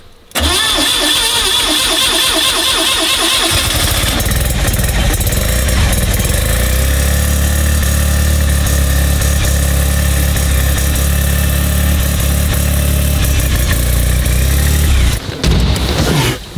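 An Audi RS4 engine cranks and catches, then settles into a loud, steady idle close by before a brief change near the end.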